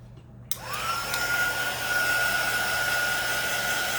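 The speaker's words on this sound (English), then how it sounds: "I'm going to go ahead and hit this with the heat gun again." A heat gun blows over a piece of artwork to dry it. It switches on with a click, then settles into a steady, whooshing hum that runs to the end, with no voices.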